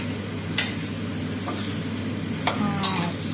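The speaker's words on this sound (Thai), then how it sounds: "ตอนนี้ก็คือผัดเครื่องอ่ะให้มันเข้ากับปลานะคะ" Catfish is stir-fried with curry paste in a pan, giving a loud, constant sizzle close up, with a few quick spatula scrapes cutting through.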